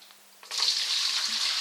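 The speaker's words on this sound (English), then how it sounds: "So I'll add my water in first." Water poured into a container to dilute distilled spirit, starting with faint trickles, then a steady bright splashing stream that continues fairly close and loud.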